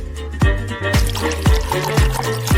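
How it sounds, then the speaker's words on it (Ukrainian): Water pours and splashes into a metal pot, with sloshing, gurgling sounds and a few distinct plops, fairly close. "Нам треба залити в каструлю води."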